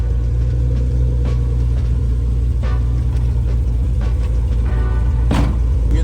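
A Nissan 300ZX Z32 idles steadily just after starting, a low continuous rumble with a faint whine above it and a few small clicks, close and constant throughout.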